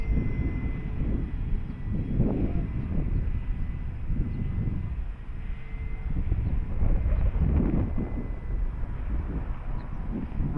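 Steady low wind rumble with gusty swells buffets the microphone outdoors while an FMS Cessna 182 RC plane flies high on a breezy day, the engine note faint under the blustering noise.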